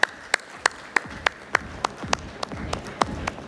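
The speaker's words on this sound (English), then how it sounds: "Let's welcome him with a huge round of applause." Sparse, slow clapping at a smart-meter conference session as a chairman is welcomed on stage: about a dozen separate sharp claps in a steady rhythm, fairly faint, with no talk.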